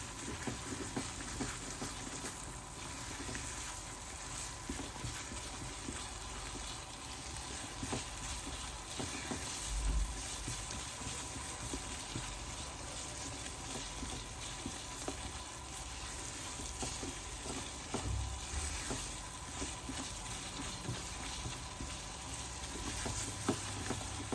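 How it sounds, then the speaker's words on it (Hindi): A spoon stirs thickening barfi mixture in a hot pan, a steady sizzling and scraping texture that continues throughout with no talk. "चम्मच को मुसलसल हिलाते जाएंगे।"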